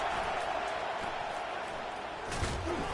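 Dense, roaring college football stadium crowd on a fourth-down play, a continuous loud wash of noise with a brief surge near the end.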